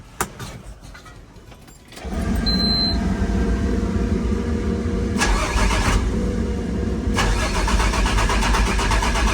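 A car engine cranks and catches at about two seconds, then runs at a steady idle with brief rises in revs, on a car with a crank sensor that had been left unplugged.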